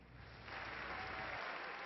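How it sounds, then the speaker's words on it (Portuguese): Lawmakers give the Israeli prime minister a standing ovation, a dense, steady wash of clapping from a large chamber that swells after the first half second and holds, with no voices on top. "O primeiro-ministro de Israel foi aplaudido de pé por deputados republicanos e democratas."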